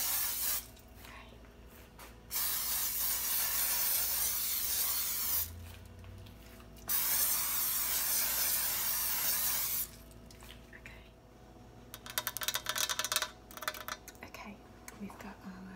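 Cooking spray hisses in three long bursts as three baking pans are greased, each broadband spray lasting a couple of seconds, close and fairly loud, followed by lighter handling and tapping sounds.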